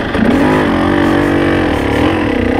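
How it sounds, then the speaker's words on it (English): A motorbike engine on a single-track trail ride runs loud and close, its pitch wavering and dipping unevenly as it chugs toward a stall. "Probably stalled the bike because I'm a rider."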